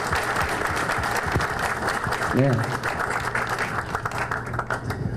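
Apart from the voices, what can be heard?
audience applause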